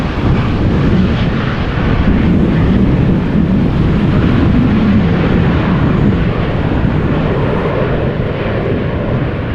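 A KLM Embraer 190 lands at Amsterdam Schiphol, its engines producing a loud, steady roar and rumble that holds throughout without any voices.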